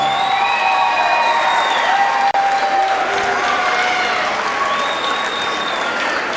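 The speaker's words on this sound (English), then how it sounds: "an awesome round of applause for the challenger" Loud crowd applause with cheering and whoops fills a boxing arena after a round 3 knockout win for a new IKKC World Cruiserweight Champion, with a voice faintly audible in the din.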